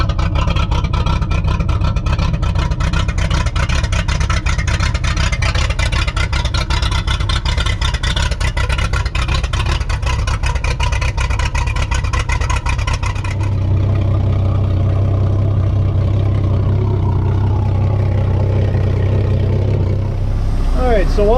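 MerCruiser inboard boat engine idling while warming up for winterization, a loud, steady, lopey rumble that sounds like an aggressive cam, running continuously near the listener with a shift in tone partway through.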